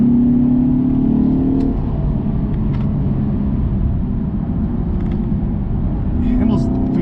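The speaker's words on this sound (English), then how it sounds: "I'm gonna go ahead and downshift. You kind of hear that V6." A 2021 Lexus RC 350 F Sport AWD's V6 drones loudly from inside the cabin. The engine note rises and shifts as it downshifts, and a voice talks over the steady road rumble.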